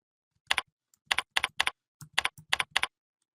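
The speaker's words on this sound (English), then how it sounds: "And I'll go ahead and type in e-learning." Close keyboard typing in short bursts of rapid keystrokes, several quick clusters separated by brief pauses, with no voices.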